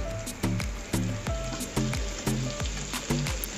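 Cubed onions and chopped garlic fry over high heat, sizzling continuously under a rhythmic series of loud spatula knocks against the pan, roughly two per second, with no voices.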